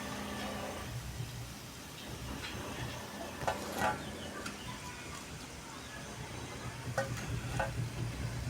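Urad dal vada frying in oil in a small kadai, a soft steady bubbling sizzle with occasional light clicks and utensil taps, fairly faint.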